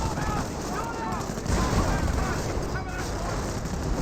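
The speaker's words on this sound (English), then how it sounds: "Good AT gun shots there" Anti-tank gun shots in the Company of Heroes 1 game, sounding as a dense, continuous wash of gunfire and booming battle noise with rapid firing layered throughout, loud and unbroken.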